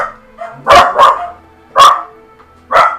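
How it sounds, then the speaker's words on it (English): A puppy in the video game Genshin Impact gives four loud, close barks in two quick pairs separated by short pauses, with no voices over them. "Calm down, puppy."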